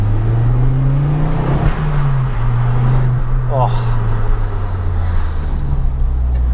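A Ford Focus RS Mk2 engine revs with the windows down, its pitch rising and falling in steady swells over road rumble; a brief exclamation is heard.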